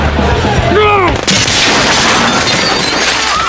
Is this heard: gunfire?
yes